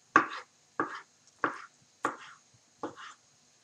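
Knife chopping boiled lamb offal such as liver, kidneys and lungs into small cubes on a board, five separate crisp cuts spaced about half a second apart, close and quiet with no talking.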